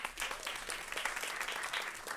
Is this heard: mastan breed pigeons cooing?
no